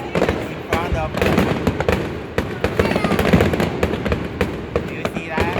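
Fireworks at the 2023 Boston fireworks show boom and crackle continuously at close range, dense overlapping bursts filling the air as people talk nearby.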